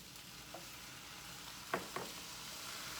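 Chicken and rice being stirred in a frying pan, a soft steady sizzle broken by two or three distinct scraping stirs near the end, no voices.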